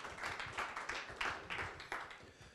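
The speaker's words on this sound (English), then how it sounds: "applause for John, I think" Faint, rather sparse clapping from a small audience at a graphite masterclass presentation, uneven claps arriving in loose pulses and heard from a distance.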